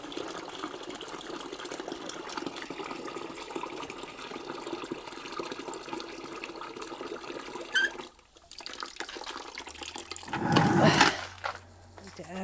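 Water pouring onto garden plants, a steady gushing and splashing stream running for several seconds, close, with a brief pause, then a louder burst of flow near the end.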